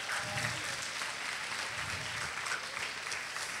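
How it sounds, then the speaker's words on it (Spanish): Applause fills a university leadership talk in Rosario: a soft, steady wash of clapping at moderate distance, with low murmurs under it. "Un aplauso para ellos."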